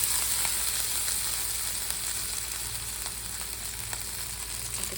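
Bengali five-spice and ginger tempering in hot oil in a home kitchen, giving a steady, bright, hissing sizzle with scattered small pops, close and continuous throughout.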